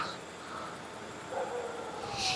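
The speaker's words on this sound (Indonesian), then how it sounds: "Berkali-kali anjing di luar." Dogs bark outside at night, faint and distant, as a few scattered calls rise over a steady hiss of background noise.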